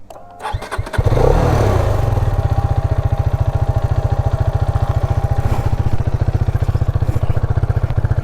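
A motorcycle engine cranks and catches about a second in, then settles into a steady, close thumping idle with an even, rapid beat that lasts to the end.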